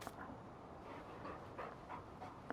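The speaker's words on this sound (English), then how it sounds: "We start off with a dog." A dog panting in the Farming Simulator 19 video game on the Homestead Economy mod map, a soft, faint rhythmic breathing at low volume.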